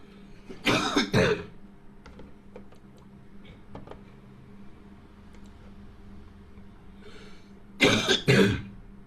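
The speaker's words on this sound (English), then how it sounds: "You're coughing a lot" A person coughs twice in short bursts near the mic, once early and once near the end, with a quiet room and faint ticks between.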